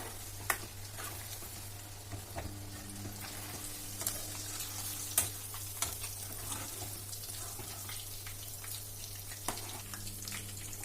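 Green chillies and curry leaves fry in a pan while making homemade kabab, a steady soft sizzle underneath with occasional light clicks and stirring scrapes, no speech.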